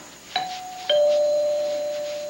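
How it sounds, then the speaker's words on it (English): Doorbell in a 1988 television soap opera scene, two clear electronic ding-dong tones in quick succession, the second ringing on and slowly fading. "Now, where did that bell come from?"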